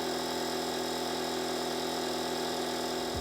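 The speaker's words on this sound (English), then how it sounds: "let's see how loud this thing actually is" A Wolfbox MegaFlow 24 Pro portable tire inflator air compressor runs about three feet away, giving a continuous loud buzzing motor drone with steady vibration that cuts off abruptly at the end.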